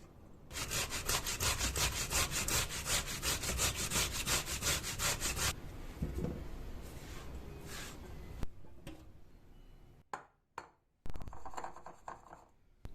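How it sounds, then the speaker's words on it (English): Raw potatoes rubbed hard against the coarse face of a metal box grater, a fast steady rasping rhythm for several seconds, close and loud, then slowing into scattered scrapes and soft handling noises. "With the coarser face of the box grater, I'll grate the potatoes and transfer them to a bowl."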